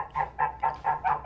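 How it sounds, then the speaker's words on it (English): Geese honk outside a woodworking shop: five evenly spaced, fairly loud calls in a steady rhythm, with no talking. "Those damn geese."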